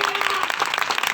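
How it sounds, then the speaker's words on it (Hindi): A church congregation claps together during a testimony service, a dense, steady patter of many hands filling the room with no break. "सबसे पहले तो आप लोग खुदावन के नाम से तालियां बजाएं"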